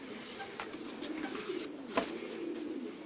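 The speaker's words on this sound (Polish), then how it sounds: "To jest właśnie ten gołąb, o którym mówiłem." A racing pigeon coos in a loft, a soft, low, steady warble running throughout with one brief sharper sound near the middle and no talking.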